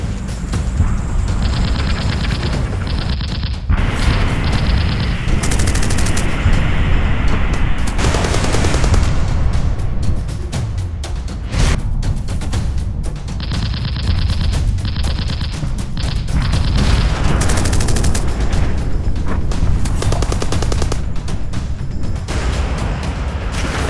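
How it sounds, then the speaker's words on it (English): An Fw 190 fighter fires its guns at a Lancaster bomber in a dramatized air battle at 18,000 feet, with loud, dense bursts of rapid cannon and machine-gun fire and crashing impacts that come in waves over a constant roar. "The 190 stays on their tail, firing across the aircraft."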